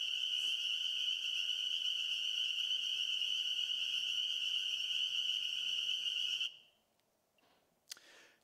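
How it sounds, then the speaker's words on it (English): A dense, continuous chorus of thousands of spring peeper frogs calling at a vernal pool, a loud steady high-pitched trilling wall of sound that cuts off abruptly near the end, leaving near silence with a faint click. "Just impossible to do it justice with the sound system, but thousands of peepers here."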